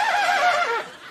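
A voice imitates a horse's whinny, a brief wavering neigh that rises then trails off, loud and close.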